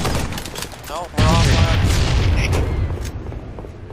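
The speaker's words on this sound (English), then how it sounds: "There's too many people shooting at me!" Loud bursts of video game gunfire from several players shooting at once, a dense volley that erupts suddenly and keeps rattling, with a voice shouting briefly before it starts.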